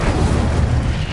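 Incendio fire spell from Hogwarts Legacy erupting as a short, loud, booming whoosh of flame, dense and low, cutting off abruptly after about a second.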